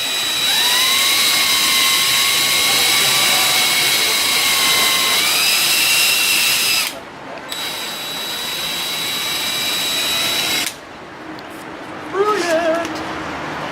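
A cordless power drill drives screws during set building, a loud high whine that rises in pitch, cuts out briefly twice, then spins up again.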